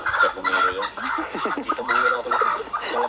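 Several chickens cluck and squawk close by as one is held, a continuous burst of fowl calls with faint voices underneath.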